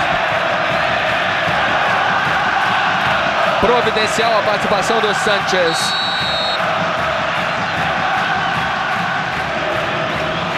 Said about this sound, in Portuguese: A torcida faz muito barulho.